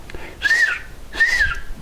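Two short rising-and-falling whistles, about a second apart, made by a person imitating an otter's warning call, close and fairly loud.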